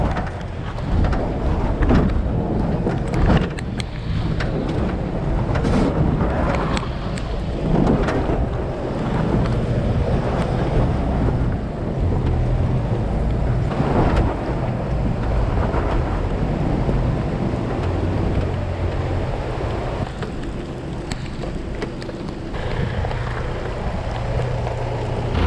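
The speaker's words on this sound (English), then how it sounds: "The rain was getting heavier and the wind was getting stronger." Strong wind gusts buffet the microphone amid a steady roar of heavy rain, loud and continuous throughout with no talking, during a 4WD trip along Climies Track in Tasmania.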